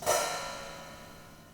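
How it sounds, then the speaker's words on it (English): A single bright splash of two splash cymbals struck together, shimmering and fading over about a second and a half. "that was actually a couple of splash cymbals being played together"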